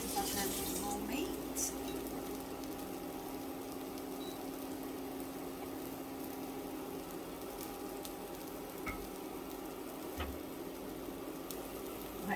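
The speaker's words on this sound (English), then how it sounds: "I'm washing my hands again because I've handled raw meat." Tap water runs steadily for a long stretch as raw-meat-handled hands are washed at a kitchen sink, a broad, even hiss with a faint hum behind it.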